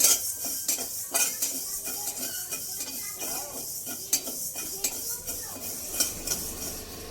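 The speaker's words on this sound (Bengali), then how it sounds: "সবগুলো একসাথে ভেজে নেব শুকনো কড়াই" Rapid, repeated clinks and scrapes of a metal spoon against a dry pan as whole spices are dry-roasted over low flame, steady and close with no talking.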